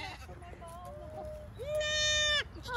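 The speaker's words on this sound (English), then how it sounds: "Look at this circus goat." At an alpaca farm, a goat lets out one loud, drawn-out bleat lasting under a second, close by, with softer voices and bleating-like calls just before it.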